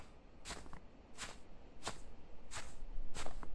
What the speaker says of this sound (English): Just a wee horse stinger and some footsteps.